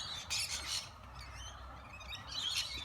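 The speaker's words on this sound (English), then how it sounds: "Pink parrots." Galahs, pink parrots, call from nearby while being fed, a series of shrill squawks and chirps in bursts over a faint background hum, with quieter calls in between.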